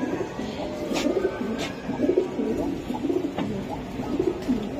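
Giribaz high-flyer racing pigeons of the Palla line coo over and over in a loft, the low throaty calls close and steady over a busy background murmur.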